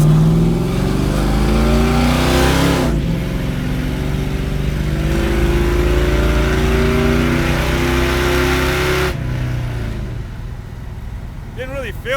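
A 1973 Plymouth Duster with no mufflers revs hard on a road test, its raw, loud exhaust rising and falling through several long pulls with a pause between, while people talk over the engine noise.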